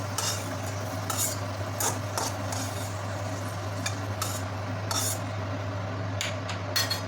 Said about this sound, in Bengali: কাজু কিশমিশটা ভেজে নিয়ে তুলে নেব